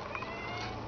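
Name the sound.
baby kitten crying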